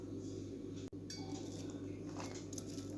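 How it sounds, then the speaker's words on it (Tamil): Fruit salad of green and black grapes, orange and mango being mixed in a bowl, with soft clinks and wet squishes running steadily at close range, broken by one brief dropout. "இந்த ஃப்ரூட்ஸ் எல்லாம் நல்லா மிக்ஸ் பண்ணிக்கலாங்க."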